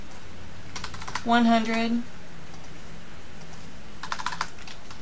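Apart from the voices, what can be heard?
typing numbers on a computer keyboard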